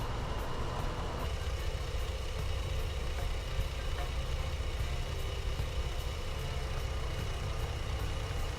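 Vehicle engine idling while coasting in neutral, a steady low rumbling hum with a constant drone, close and even in level throughout, no talk over it.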